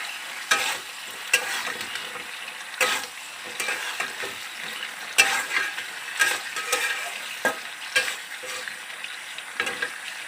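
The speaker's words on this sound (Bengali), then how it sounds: "এবার আমি মাংসগুলো দেব। মাংসগুলো দিয়ে নাড়াচাড়া দিয়ে" Chicken pieces frying in a pan for sesame chilli chicken, a steady close sizzle broken by repeated clacks and scrapes as a utensil turns them, with no voices.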